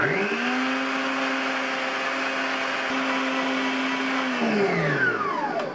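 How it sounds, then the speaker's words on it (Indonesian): An electric mixer whips egg whites at medium speed for chiffon cake batter, a steady, loud whirring drone that holds evenly and then winds down at the end, with no talking. "Ini langsung saya mixer. Pakai speed kecepatannya itu 11. Pakai medium."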